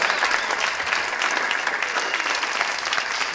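Studio comedy audience applauding for comedian Ari Shafir, a dense steady wash of clapping at even loudness throughout, with no voice over it.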